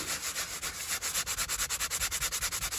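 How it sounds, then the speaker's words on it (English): Steady back-and-forth sanding of filler on a Jaguar XJR leather seat during restoration, a close, dry rasping scrape in an even rhythm of about six strokes per second. "you keep on just sanding it and just feel it gently"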